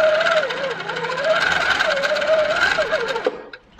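A sitdown longarm quilting machine stitches twin-thread quilting at a steady, continuous mechanical whir with a rising and falling motor pitch, close and loud throughout, then stops abruptly near the end.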